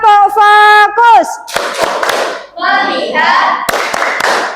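A classroom does a rhythmic clapping ice-breaker: sharp patterned hand claps between bursts of children's chanted voices, loud and close.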